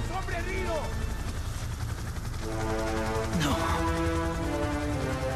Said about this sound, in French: Un hélicoptère qui arrive.